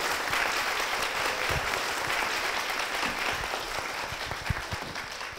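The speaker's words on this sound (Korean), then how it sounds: "박수로 맞아주십시오." A church congregation applauds steadily, a dense wash of clapping that holds at an even level for about five seconds with no voices over it.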